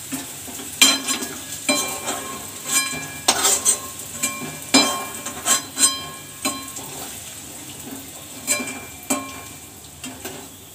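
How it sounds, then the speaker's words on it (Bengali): Potatoes frying in a pan crackle under repeated scraping stirs, about a dozen irregular spatula strokes over a continuous low sizzle, close and fairly loud, with no talking. "আলুগুলো ভাজা"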